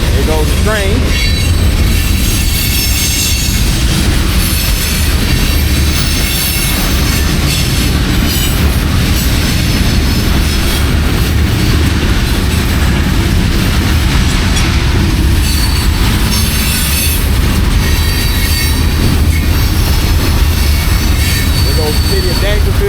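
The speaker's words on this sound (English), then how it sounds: "There goes the train." A long freight train rolls past on railroad tracks through a small Texas town, a loud sustained rumble with rattling wagons and metallic wheel squeal that carries steadily to the end.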